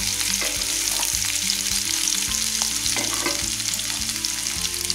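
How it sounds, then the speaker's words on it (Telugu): Boiled elephant foot yam pieces fry in oil in a pan, giving a loud, continuous close-up sizzle with a repeated low thudding pulse underneath. "మంచిగా ఫ్రై అవుతుంది బాగుంది వేస్తే"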